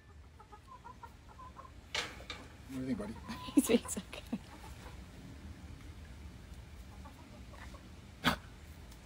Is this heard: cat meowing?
no